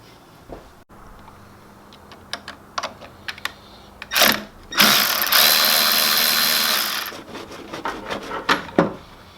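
Ratchet clicking as 10 mm bolts come off the dust cover of a Jeep Wrangler JLU 2.0 turbo: scattered close mechanical clicks and taps, then a louder sustained rattling burst in the middle before sparse clicks resume.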